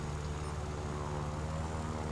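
A steady, droning propeller engine hums without a break from a Wirraway, an Australian plane in War Thunder, with an even tone that never swells or fades.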